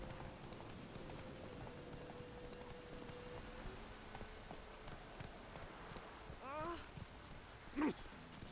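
Roach the horse's hooves clip-clop faintly and steadily across open ground in The Witcher 3, under a soft rain-like hiss, with a couple of brief chirping calls near the end.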